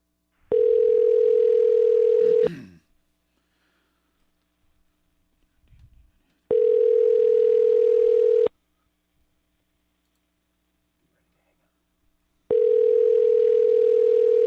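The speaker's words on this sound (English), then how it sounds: "We're making a phone call." A telephone ringback tone sounds while an outgoing call waits to be answered, with loud, close two-second tone bursts separated by about four seconds of silence, repeating three times, with a faint thump in one gap.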